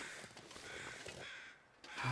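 A crow caws in The Long Dark survival game, a few harsh calls over a steady wind-like ambience, briefly dipping before a louder burst at the end.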